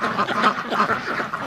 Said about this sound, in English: Look at them. They're crazy ducks.